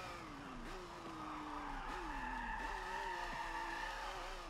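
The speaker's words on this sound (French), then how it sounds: "Drift correct, c'est la première fois que je drift." A Lancia Stratos HF Group 4 rally car in Forza Motosport 7 drifts with a steady revving engine whose pitch rises and drops at each shift, with tyre squeal underneath and faint talk.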